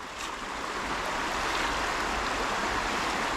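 A fast-flowing river current rushes in a dense, continuous broadband wash, loud and close, with no pauses or voices over it.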